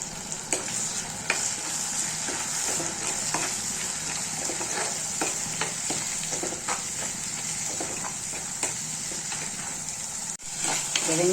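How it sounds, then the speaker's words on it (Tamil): Onion and tomato paste sautés in a pan for a small-fish curry, giving a continuous close sizzle broken by repeated stirring scrapes. No voices are heard. "வெங்காயம் தக்காளி பேஸ்ட்டு நல்லா வதங்கி வருது"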